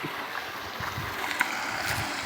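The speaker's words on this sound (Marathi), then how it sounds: "मस्त पाणी मारत आहे." Water gushing steadily from a 3 HP Oswal solar pump drawing from a well at Sakharwadi, Phaltan, Satara, a continuous close rushing wash with no talk.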